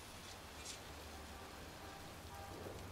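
Steady rain falls in a cemetery in the video game Heavy Rain, an even, hissing downpour at low level with no breaks, faint and continuous throughout.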